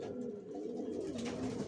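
Racing pigeons of a Janssen line, kept in a loft for breeding, give close, steady cooing that runs unbroken through the whole short moment.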